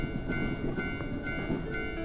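A train rolls along railway tracks, a steady mid-distance rumble with faint rhythmic clatter and a sustained tonal hum, with no voices.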